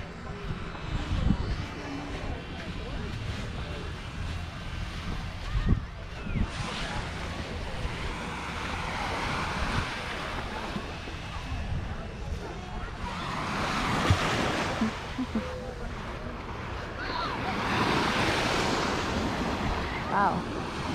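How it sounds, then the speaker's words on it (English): Ocean surf washing onto a beach in a steady, broad rush mixed with wind, swelling into fuller waves near the middle and end. "All right, let's check out this ocean."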